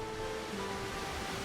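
A waterfall in Divinity: Original Sin 2 pours as a steady, broad wash of rushing water, close and unbroken for the whole short stretch.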